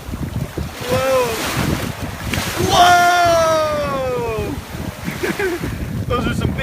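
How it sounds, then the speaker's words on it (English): Big ocean waves surge near a boat off North Captiva, a broad roar of surf and wind buffeting the microphone, with an excited voice and a child's high cries over the water noise. "Those are some big waves"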